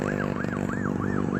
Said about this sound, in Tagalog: medyo ang daan may ambulansya, mukhang may emergency